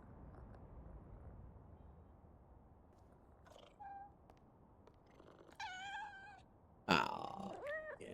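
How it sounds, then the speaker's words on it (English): A cat meows in the PowerWash Simulator 2 video game: two or three short, clear meows near the end, louder than the steady low background hum, with no talking. "I hear a kitty."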